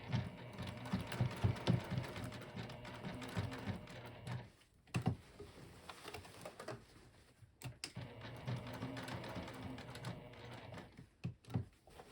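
A domestic sewing machine stitches the handles of a Finch bucket knitting bag, a close steady mechanical whirr in runs separated by brief stops and clicks as the fabric is turned.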